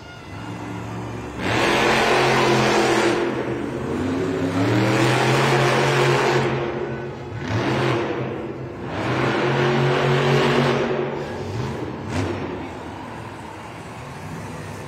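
A monster truck engine at an arena event revs hard at the starting line, loud and close, in several long surging bursts that dip briefly between pulls.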